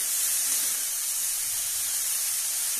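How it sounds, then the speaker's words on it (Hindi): Fish pieces fry lightly in a pan with a steady, even hiss of sizzling oil, constant and close, with no talk. "इधर थोड़ा मछली हल्का फ्राई हो जाएगा"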